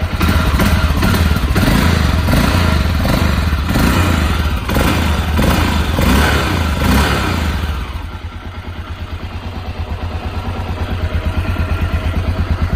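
A Honda FMX 650 motorcycle engine runs close by with a steady, loud, rough idle rumble, holding through the whole stretch and dropping slightly in level after a few seconds before continuing to chug evenly.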